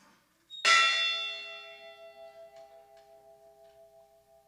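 A single memorial bell strikes once at an Edmund Fitzgerald memorial ceremony, loud and clear, then its tone hangs and slowly fades with a gentle pulsing shimmer, alone with no voices.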